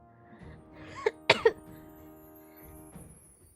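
A few sharp coughs burst out close to the microphone in a quiet room, two or three quick hacks in a cluster with a faint murmur of a voice before and after.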